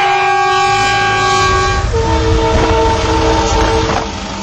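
A train passes close by, sounding a loud sustained horn that shifts pitch midway, over the heavy rumble and clatter of the wagons, loud and continuous before easing slightly at the end.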